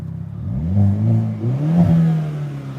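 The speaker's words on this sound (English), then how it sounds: "We'll rev it for you for a second here." A 2022 Hyundai Kona N engine revved in neutral while parked, several rising and falling throttle blips in a steady, loud, close mechanical drone with no talk over it.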